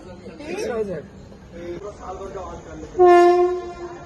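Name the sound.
train arriving at station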